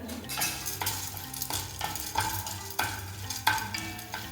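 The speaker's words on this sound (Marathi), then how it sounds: "आता त्यामध्ये ना आधी आपल्याला डाळी ह्या छान अशा भाजून घ्यायच्या. इथे मी चणा डाळ घालून घेते." Chana dal being dry-roasted in a pan for homemade South Indian sambar masala, with a spatula scraping and stirring the dry lentils in repeated close, rhythmic strokes and no voices.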